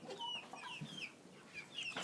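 A hen clucks softly in her nest, giving a quick run of faint, chirpy clucks and little trills close by in a quiet coop.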